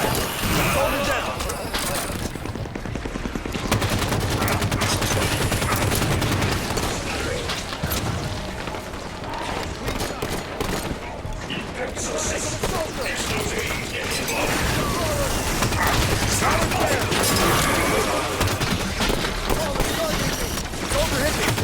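Busy Halo 5 combat sounds with rapid bursts of gunfire, mechanical clatter and impacts run continuously, with in-game voice callouts mixed in.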